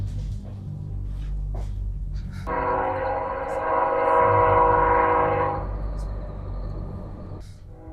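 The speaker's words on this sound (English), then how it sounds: "Oh, the train is coming by." Train passing by outside a reputedly haunted house at night, a loud sustained horn blast over a deep rolling rumble that swells and fades, fairly near.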